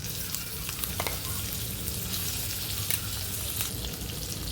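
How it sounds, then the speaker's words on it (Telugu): Coriander and mint chutney fries in oil with curry leaves and asafoetida, giving a steady soft sizzle with a few sharp crackles and occasional stirring clatter, close and moderately quiet. "ఇలా 1 నిమిషం ఆయిల్లో వేయించుకోవడం వల్ల"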